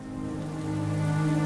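Steady rain falls on a floodplain in the Linyanti, a continuous soft hiss of drops that builds slightly over a brief moment, with no voices.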